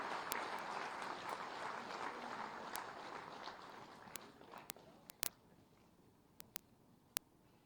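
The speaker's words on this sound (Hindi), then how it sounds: "आपकी जोरदार तालियों के अभिवादन के साथ" An audience at a Lucknow government ceremony for urban development projects gives applause. The clapping is steady and crowd-wide, then fades out, leaving a few sharp isolated claps.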